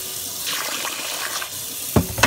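Water is poured onto white rice in a pot, a steady splashing stream with a couple of brief louder sloshes near the end, close and alone.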